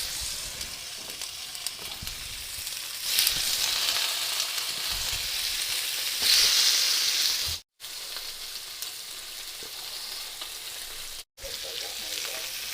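Steady, loud sizzling of fish pieces on skewers frying in hot oil, a continuous crackling hiss with two brief cut-outs, no voices.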